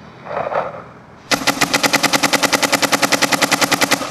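A Luxe X paintball marker fires a rapid, even string of about twenty shots after a brief soft rustle, each pop sharp and close.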